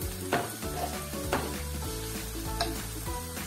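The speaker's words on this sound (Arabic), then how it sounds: "هنا هبطت شويه البصله هي الثومه، نزيد عليها الزيتو، نزيد عليها كاع الخضره" Onion, garlic, oil and mixed vegetables sizzle steadily in a pan, with a few sharp stirring clatters over a continuous fry and a faint tonal hum underneath.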